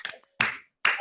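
Several people clap over a video call at a comedy show, three short bursts of applause-like slaps in about a second, close and fairly loud with gaps between.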